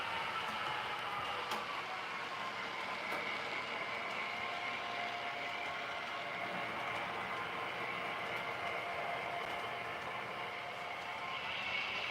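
A train runs steadily on its rails with a continuous rumble and wheel hiss, holding a constant level throughout with no clear stop.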